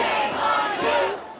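A crowd of protesters clashing with police in downtown LA erupts in loud shouting and yelling, several voices overlapping in a brief, close, tense surge that fades at the end.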